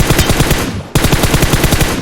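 Rapid automatic rifle fire in the battle-royale shooter PUBG Mobile, a steady rattling burst of shots that briefly dips before resuming at full loudness, with no talk over it.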